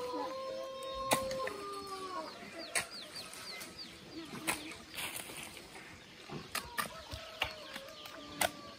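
A chicken kept at a rural Vietnamese home clucks in short, scattered bursts against a quiet outdoor background, with other faint bird calls and occasional sharp knocks, while people talk softly nearby.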